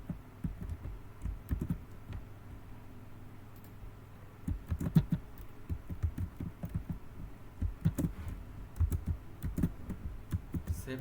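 Code being typed on a computer keyboard during HTML web-design work, heard as irregular bursts of close, soft key clicks with short pauses, no voices.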